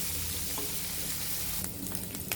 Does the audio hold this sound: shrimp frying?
yes